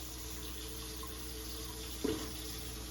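Tap water runs and drains off meat being rinsed after a lime-juice soak in a home kitchen, a steady, fairly faint hiss throughout with a brief knock near the end.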